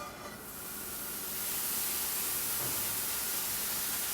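Cheese melting in a hot Granitestone Diamond nonstick pan gives a steady, close sizzling hiss that swells after the first second and then holds evenly to the end, with no voices.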